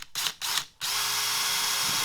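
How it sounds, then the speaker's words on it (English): A power drill bores a hole in sheet metal, starting with two or three short bursts and then running at a loud, steady whine. "So I'm going to go and put a drill"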